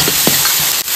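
Ginger and garlic paste sizzles in a hot pan, a loud, steady broadband frying hiss close up with a few brief stirring scrapes, and no voices.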